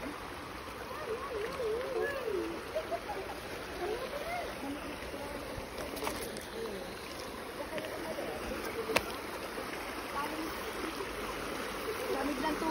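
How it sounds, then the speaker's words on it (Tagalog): Water swishes and splashes continuously as someone wades through a shallow, clear stream in Bugallon, Pangasinan, with flowing water around and faint voices in the background. "Kaya kailangan namin lumusong dyan sa tubig."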